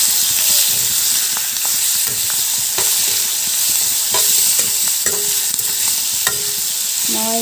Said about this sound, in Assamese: মাংসটো দি লাহেকৈ লৰাই দিব।